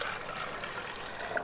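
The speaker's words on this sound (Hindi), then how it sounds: "इस ब्लेंडर के अंदर हम डालेंगे जी 1 गिलास पानी" Water is poured from a glass into a blender jar, a steady soft splashing stream that runs evenly for the whole moment, faint and close, with no talk.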